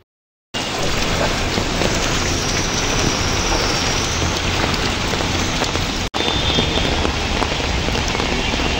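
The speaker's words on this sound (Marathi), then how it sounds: "मुंबईत जोरदार पाऊस, मस्जिद बंदर परिसरात साचलं पाणी." Heavy monsoon rain pours down steadily in Mumbai's Masjid Bunder area where water has pooled, a dense, constant hiss of rain on surfaces close by throughout, briefly cutting out once before resuming.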